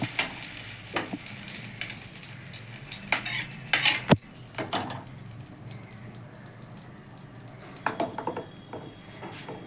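Pieces of squash sizzle in hot oil in a kadai while a metal spatula scrapes and clinks against the pan as they are stirred and lifted out, with sharp utensil knocks over a steady frying crackle.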